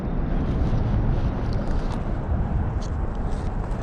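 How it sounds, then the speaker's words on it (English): Steady wind gusting over open water at a fishing spot, a continuous broadband rush with low buffeting that fills the whole stretch at a fairly loud, even level, no voices. "we got wind"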